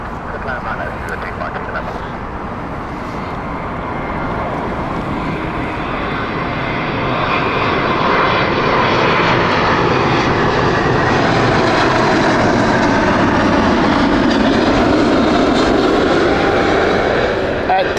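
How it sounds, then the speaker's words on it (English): British Airways Boeing 777-200 arriving at Heathrow, its engine roar swelling from moderate to loud over the passage with a falling whine as it passes close, while a person talks over it. "inbound right now, this is the 777-200 from British Airways."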